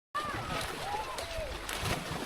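A person dives into cold water on a sunny school holiday in the Pamirs of Tajikistan, a soft splash and sloshing close by with a few high bird-like chirps over it.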